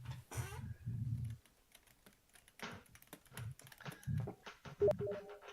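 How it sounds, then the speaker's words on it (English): Keys clatter on a computer keyboard in uneven bursts of typing, close and fairly quiet, with short pauses between flurries of clicks. "is he typing more stuff?"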